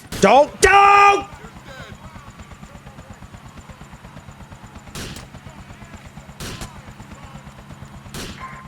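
Rapid automatic gunfire in the online multiplayer of the video game GTA IV rattles in a fast even rhythm throughout, opening with a loud burst and joined by a few sharp louder shots, while a voice talks over it.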